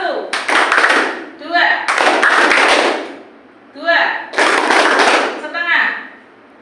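Students in a classroom perform a rhythmic group clapping pattern in loud, tight bursts of synchronized claps separated by short pauses, with a teacher's voice counting aloud between the sets.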